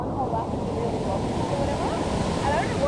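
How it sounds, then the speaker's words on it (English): Small waterfall at a cold swimming spot at El Chiflon, Mexico, a constant rushing roar of falling water close by, with faint voices in the background. "Little waterfall."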